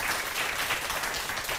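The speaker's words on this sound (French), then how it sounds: "On l'applaudit." A studio audience applauds a young quiz contestant on a television show, a dense, even wash of clapping heard from a little distance, with no talking over it.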